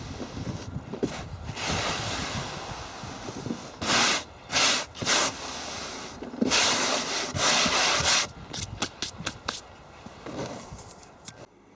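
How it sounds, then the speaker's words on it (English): A small cast vintage-style key, designed from a 3D print, is sanded by hand in close, raspy strokes that come in rhythmic bursts with short pauses between them. "Giving it a good sanding."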